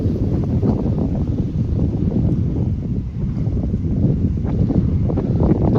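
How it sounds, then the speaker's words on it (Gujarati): Strong gusty wind roars continuously into the microphone in a cotton field at night, a dense low rumble that swells slightly in places, with no other sounds standing out. "આંસકાનો પવન આવે આંસકે રહી જાય ને ફરી પાછો આવે"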